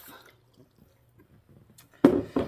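Water pours into a pot for apple pie filling in a home kitchen, two short loud gushes near the end after quiet background.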